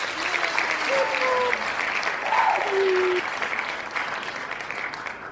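An audience at a summer internship capstone event applauds, steady moderate clapping throughout with a few faint whistles or voices rising briefly over it.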